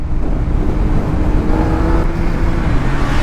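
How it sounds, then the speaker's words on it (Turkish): Heavy road traffic rolls past a group of motorcyclists riding in Austria, a steady, loud engine and tyre roar that stays constant throughout. "Trafik de çok ama."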